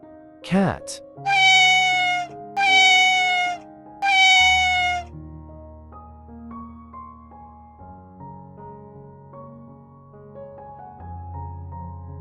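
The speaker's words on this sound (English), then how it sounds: "Cat." A domestic cat meows three times in a row, each call loud, close and drawn out, with a quick sharp sound just before them; soft background music carries on afterwards.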